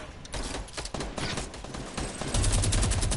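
Minigun fire in Fortnite Battle Royale, a dense, rapid rattle of shots running nearly continuously and loudly throughout, growing heavier near the end with a low droning spin-like hum underneath.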